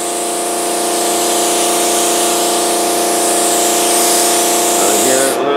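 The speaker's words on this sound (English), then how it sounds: "spray some more on there" A heavy mist is sprayed onto a mold for a Kevlar fuel tank, giving a loud, steady hiss over a humming, pump-like drone that cuts off abruptly just before the end.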